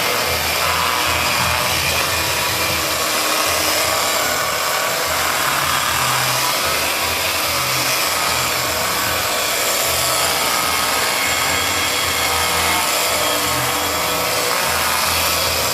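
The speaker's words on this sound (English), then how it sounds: "When using the buffer, you do want to buff it slowly because it has just been painted." An electric buffer polishes a freshly painted surface repair, giving a steady, loud, broadband whir that sounds much like a hair dryer and runs unbroken for about sixteen seconds.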